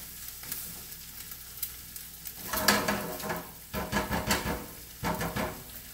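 An egg frying in a pan alongside patty pan squash, carrots and spinach, with the yolk broken, gives a steady close sizzle that swells into louder crackling bursts partway through.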